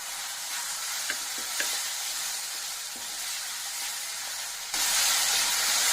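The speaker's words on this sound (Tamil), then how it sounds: "வெங்காயம் பச்சை வாசம் போக நல்லா வதக்கலாம்." Onions sauté slowly on low heat in a pan for chana masala, giving a steady, even sizzle with a few faint stirring clicks. The hiss swells noticeably louder near the end.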